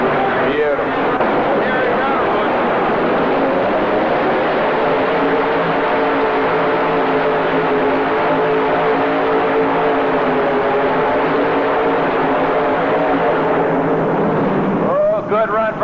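A Chevy pulling truck roars down the pull track at a 1985 truck and tractor pull, a loud, sustained, strained engine blare that holds steady, with an announcer talking over it.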